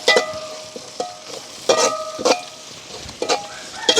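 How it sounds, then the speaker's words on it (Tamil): Onions and green chillies sautéing in a pan for a village country-chicken curry, with soft sizzling and occasional stirring clinks of a spoon against the pan, close by. "வெங்காயம் பச்சை மிளகாய் வதங்கிட்டுது"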